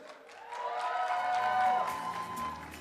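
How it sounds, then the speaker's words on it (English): A wedding crowd claps and cheers with a few whoops, moderately loud, swelling in the middle and easing slightly toward the end. "let's give a round of applause for Irij."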